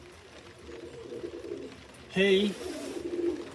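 Low pigeon cooing murmurs through a loft while someone speaks briefly over it partway through, the birds' steady warble continuing close by afterward.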